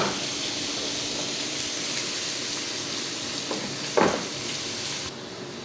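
Onion sautéing in butter with garlic in a pan, a steady close sizzle and hiss running throughout, with a brief louder stir-like crackle near the end.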